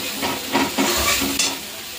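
Spice masala of tomato, onion, garlic, cumin, ginger, green chilli and nuts frying in oil for a yogurt katla fish curry, sizzling steadily with a few soft stirring scrapes, close and moderately loud.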